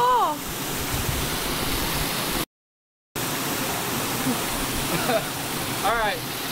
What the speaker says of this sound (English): We're here at the Reyes Creek.